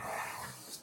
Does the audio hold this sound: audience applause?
no